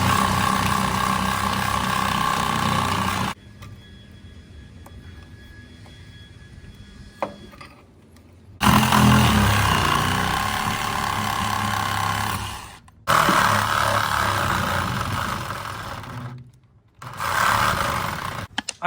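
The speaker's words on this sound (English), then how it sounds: "So I'm gonna try with the vice grips." Vice grips clank and ratchet against a stuck bolt on a skiff trailer in loud metallic bursts, separated by short pauses and quieter stretches.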